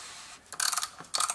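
A wrench turns a Mercedes-Benz E-Class W212 oil filter housing with a tool fitted, giving two short bursts of close, dry ratcheting clicks separated by a brief pause.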